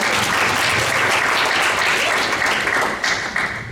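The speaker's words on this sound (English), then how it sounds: "she probably deserves a little bit of a clap for that" A room full of people gives a warm round of applause at a church teaching session, the dense clapping steady and close, then thinning slightly toward the end.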